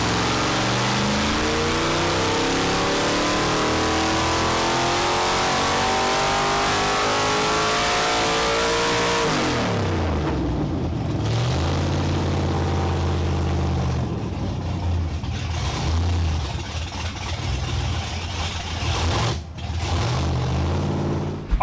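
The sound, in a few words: 363ci V8 engine revving during dyno run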